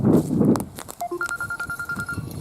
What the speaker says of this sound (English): And my phone's going off